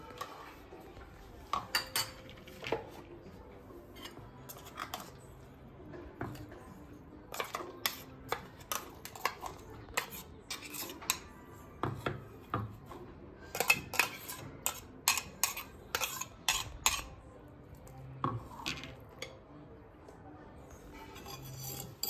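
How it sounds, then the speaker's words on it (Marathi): A spoon scooping green tomato chutney into a small bowl, with repeated sharp metallic clinks and scrapes in irregular bursts, close and moderately loud against a quiet room. "आता हे एका वाटीमध्ये काढूया"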